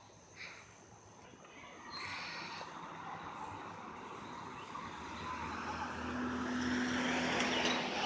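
A car approaches and passes on a road, a broad engine and tire rush that swells gradually and grows louder toward the end, with faint background noise and no talk.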